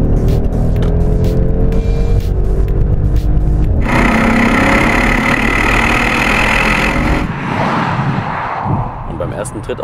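A Mercedes S63 AMG engine revs and roars as the car accelerates, the loud rumble building for several seconds and then easing off into a softer engine tone.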